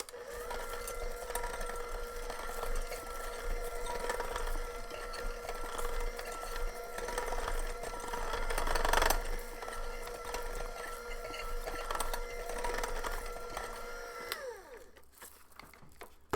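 Halloween sprinkles being mixed into edible cookie dough in a bowl, a steady close scraping and stirring that runs continuously for about fourteen seconds before fading, with no talk.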